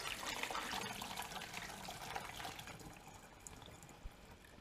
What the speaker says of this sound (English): Pour it into here.